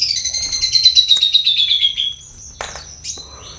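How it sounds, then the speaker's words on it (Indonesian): White-rumped shama (murai batu) songbird calling close by: a loud, bright descending whistled phrase followed by two short sharp chirps, with no speech. "Karena ya dasar dari murai batu adalah burung Victor, ya"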